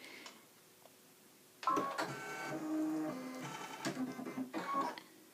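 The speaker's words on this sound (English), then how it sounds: "I'm just going to poke the needle threader button over here." Baby Lock Spirit embroidery machine running its automatic needle threader: a quiet lead-in, then about four seconds of whirring and clicking mechanism noise, close and fairly loud, with no voices.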